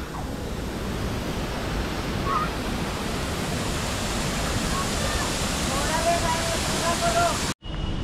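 Wind gusting outdoors at a hilltop garden on a road trip to Wai, a steady loud broadband roar filling the whole clip, with faint voices underneath before it cuts off near the end.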